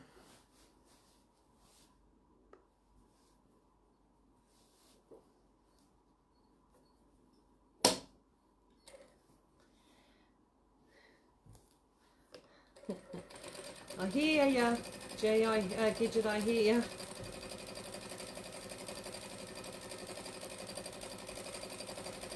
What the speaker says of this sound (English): I'm sewing these seams together